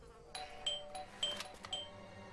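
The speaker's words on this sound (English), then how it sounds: "I thought I should use the doorbell so I wouldn't startle you." Doorbell chiming inside a house in the Blues & Bullets video game, several quiet ding-dong tones ringing out in sequence over a faint hum, no speech.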